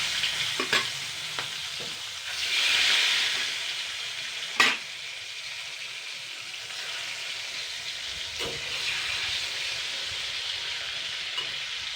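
Steady hiss and sizzle of tilapia fish pieces frying in hot oil, swelling briefly, with a few sharp clinks of a utensil against the pan.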